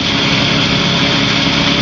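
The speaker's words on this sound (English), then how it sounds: "So I'm going to chop the engine" Light aircraft engine throttled back in flight, a steady buzzing drone heard close and loud without pause.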